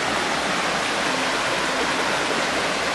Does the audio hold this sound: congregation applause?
no